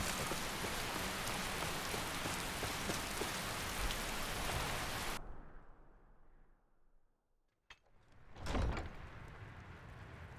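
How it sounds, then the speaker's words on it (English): Steady rain drums on the roof outside a longhouse in the video game Skyrim, a loud continuous hiss that suddenly cuts off midway, leaving near silence broken by a sharp knock and a brief swell of noise. "Listen to the rain outside."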